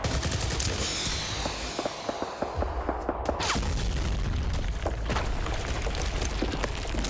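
Dense gunfire and explosions from a Fallout: New Vegas battle: rapid machine-gun bursts, sharp shots and booming blasts overlap in a loud, continuous barrage.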